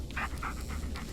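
A dog panting in quick, rhythmic breaths inside the Blair Witch game, close and moderately loud over a low steady background rumble.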